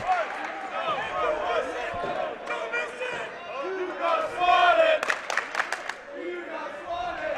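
Basketball fans cheer and shout in a school gym during a varsity boys' game around a free throw, crowd noise under a commentator's voice, with a few sharp ball bounces or slams near the end.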